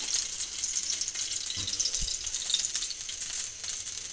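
Ghee melting in a karahi gives a soft, steady sizzle and crackle, close and even throughout, with a couple of light knocks partway through.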